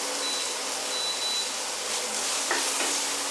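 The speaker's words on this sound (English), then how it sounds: "mix it into the vegetables" Diced cooked ham stirred into vegetables frying in a pan, a steady close sizzle with soft scraping stirs running throughout, no voices.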